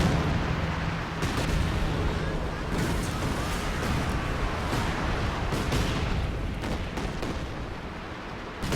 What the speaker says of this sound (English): These Volksgrenadiers can only stick around in that capture circle for so long under Katyusha and heavy mortar fire.